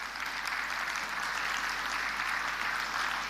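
Scattered audience clapping at a business networking event, an even, continuous patter of hands at moderate distance, steady throughout with no talk on top.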